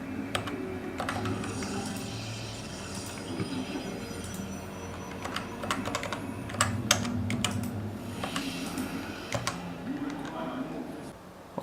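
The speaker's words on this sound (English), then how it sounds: "Let's see what does the NovaTouch TKL sound like during gaming session." A Cooler Master NovaTouch TKL mechanical keyboard is typed on during a gaming session, giving irregular, crisp key clicks and bursts over a steady background of game sound.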